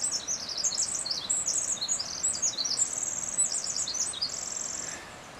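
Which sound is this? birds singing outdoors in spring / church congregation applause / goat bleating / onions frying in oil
birds singing outdoors in spring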